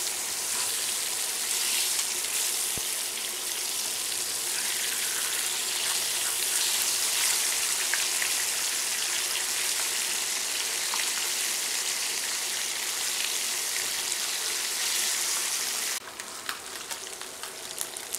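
Fish sizzles and fries in a pan for fish masala at home, giving a steady, even hiss of bubbling oil close up that runs continuously and shifts slightly near the end.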